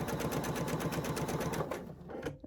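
A sewing machine stitches a strippie baby quilt in a quick, even mechanical rhythm, close and fairly quiet, slowing and stopping at the end.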